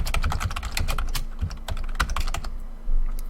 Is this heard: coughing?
no